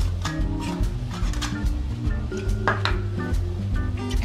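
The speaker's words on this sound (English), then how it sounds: "And mix it with mayonnaise and the salad is ready." A spoon works Chinese cabbage and crab salad with mayonnaise in a bowl, making continuous close clinks and scrapes against the dish, with a steady background layer beneath.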